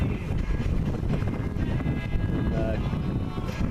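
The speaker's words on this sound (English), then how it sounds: "wind picked back up to 10 and 10 or 11" Steady wind roars across the microphone aboard a sailboat under way in about 10 to 11 knots of breeze, a dense, continuous rush with faint water wash beneath and no speech.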